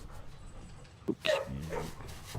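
Puppies in a kennel give a few short, close barks and whimpers, one sharper yip standing out over low background noise.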